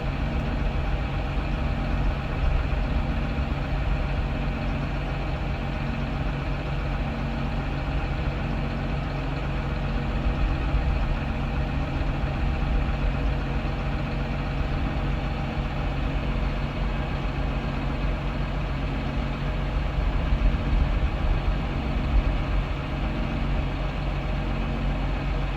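Trucks and tractors with trailers sitting at a corn silage harvest, a steady low diesel idle droning on unchanged throughout with no voices.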